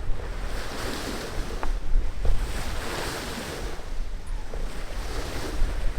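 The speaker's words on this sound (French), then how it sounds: "on n'a rien à faire à part apprécier l'océan, le vent dans le cheveu" Ocean waves wash and surge under gusting wind buffeting the microphone, a continuous rough roar rising and falling.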